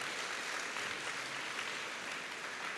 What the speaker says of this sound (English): we'll have another round of applause